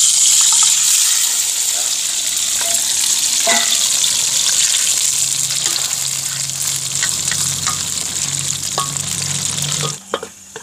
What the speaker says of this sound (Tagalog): dapat i-deep fry ko muna